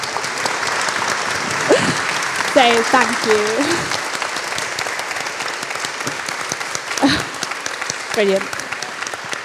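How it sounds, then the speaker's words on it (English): An audience at a panel on technological innovation in the Mediterranean animation sector gives a sustained round of applause. The clapping is steady and fills the room while people speak over it. "would you please all join me in a round of applause?"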